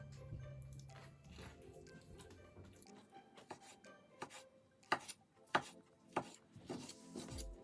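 A knife slices through raw chicken on a cutting board for sesame chicken, with a low rumble at first and then soft, scattered squishy cuts and taps, nearby and quiet, without speech.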